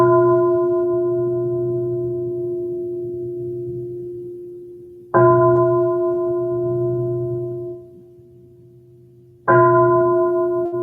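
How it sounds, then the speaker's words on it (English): A meditation bell is struck three times, each strike a bright, clean onset followed by a long, slowly fading resonant ring. The strikes are spaced several seconds apart, with no talk. "3 sounds of the bell."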